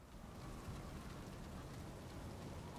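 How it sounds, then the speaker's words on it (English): Steady rain in the video game Remnant 2, The Awakened King DLC, pours down as a dense, even hiss, with no music or other sounds over it. "Rain."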